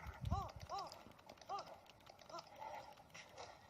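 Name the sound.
horse hooves and whinny in the video game Zelda Breath of the Wild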